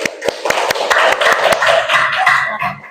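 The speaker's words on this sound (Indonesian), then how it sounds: "Tepuk tangan dulu untuk temannya." Students in a classroom clap for a group that has just finished presenting, giving a few seconds of loose, close applause. Sharp hand claps are scattered through the stretch and overlap with murmured voices.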